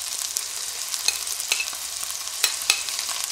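Rabbit saddles browning in a frying pan give a steady broadband sizzle, punctuated by a few brief stirring and turning clicks. No voice is heard.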